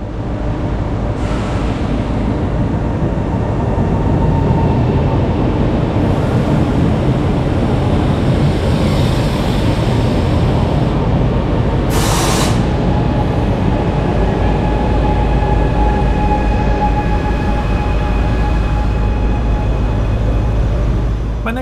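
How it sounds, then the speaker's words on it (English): The Jazz train pulls into Palermo Notarbartolo station, coming from the airport toward Palermo Centrale. A steady, loud low rumble of rolling wheels and motors fills the whole span, with a short bright hiss or squeal partway through. "we can take a look at the arrival of my next train"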